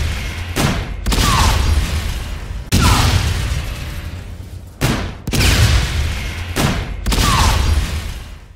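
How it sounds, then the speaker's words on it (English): Horwitzer grenade launcher from Call of Duty: Infinite Warfare fires four times, each a loud booming blast with a sharp crack and a long rumbling tail, spaced about two seconds apart with no voices. "That one was a Horwitzer, a rip-off version of China Lake."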